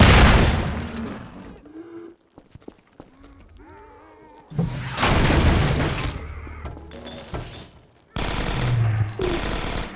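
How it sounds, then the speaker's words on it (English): In Half-Life 2 Episode 1, an explosion seals a cafe door: a loud blast with debris rumble follows gunfire and combat noise, with bursts of impact and echoing booms mixed with brief voices. "This explosion permanently seals the cafe door"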